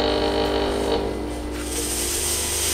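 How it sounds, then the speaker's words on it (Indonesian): A fogging sprayer machine blasting liquid smoke gives a loud, continuous mechanical roar and hiss close by, steady throughout with a slight shift in tone midway and no talking. "Nah, inilah hasil pengasapannya."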